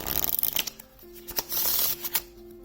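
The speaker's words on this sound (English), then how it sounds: "Feels good, shuffles well." A deck of Photography Cheat Sheet playing cards on Bicycle-like stock is shuffled close up, crisp riffling bursts with a brief pause and a final snap, no talking.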